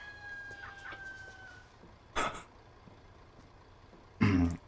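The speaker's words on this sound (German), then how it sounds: "Ja, der Hahn da, der ist immer so komisch." A nearby rooster crows and clucks, near a farm, producing faint early calls followed by two short, louder crowing bursts, heard alone without speech.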